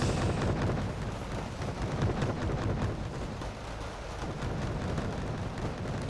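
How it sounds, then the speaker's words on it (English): Autocannons and rifles firing in Wargame Red Dragon during a battle, forming a dense, continuous rumbling barrage of booms and crackling shots that blur together, loud and steady throughout with no voices. "You can see the muzzle flashes from these autocannons going off."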